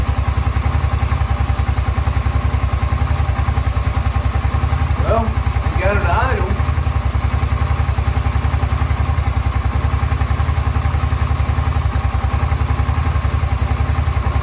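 A Suzuki SV650 motorcycle engine idles steadily after sitting unused for six years, a loud continuous mid-pitched drone with a brief clatter of mechanical knocks partway through.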